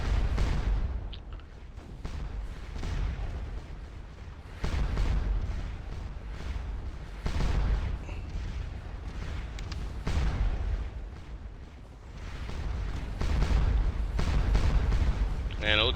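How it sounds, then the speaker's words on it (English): Massed artillery of a grand battery firing in a Napoleonic Waterloo battle game, rolling booms and rumbling blasts recurring across the scene under a steady battlefield din, with a voice talking over it. "we have a massive grand battery of artillery set up"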